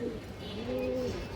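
A large female pigeon gives a single short, soft coo close by, heard alone.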